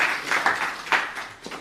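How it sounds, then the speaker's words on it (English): A short burst of clapping from an audience at a startup pitch event, a handful of hands applauding briefly and unevenly before fading. "Round of applause for Jon."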